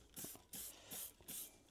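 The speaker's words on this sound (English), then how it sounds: "So if you look, just spraying with water," Water sprayed onto a Yamaha FJR1300 motorcycle part in short hissing bursts, four of them in quick succession, fairly quiet and close, with no talking.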